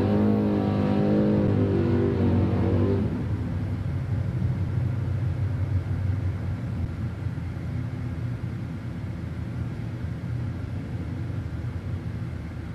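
Oldsmobile drag car launching at a night drag strip, its loud engine revving hard for a few seconds before settling into a steady roar as it pulls away down the track.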